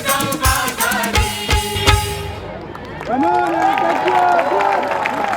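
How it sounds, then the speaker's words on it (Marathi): Applause rises from the audience at a student Koli folk dance function, with rhythmic clapping against the music, then a broad wash of crowd clapping and cheering. "अरे वसई विरार टाळ्या वाजवा, टाळ्या कमी होत्या"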